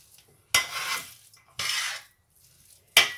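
A spoon scrapes and stirs chicken and potato samosa filling frying in a pan, three separate bursts of close metallic scraping and faint sizzle with quiet pauses between them.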